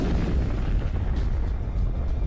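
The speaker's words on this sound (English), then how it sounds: "So these explosions are not small." Explosion sound effect, a heavy sustained rumbling roar with deep low-end power that continues throughout without pause.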